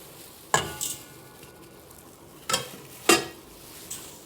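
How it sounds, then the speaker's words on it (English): Cake batter of dry ingredients with brown and white sugar is stirred in a bowl, with a few separate scraping, clinking strokes spaced out against a quiet background. "Stir together."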